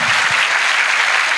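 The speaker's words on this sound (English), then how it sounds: "So can we have a big round of applause for Prasanna?" An audience claps loudly and steadily at a kirtan gathering, a dense, continuous burst of applause with no talk over it.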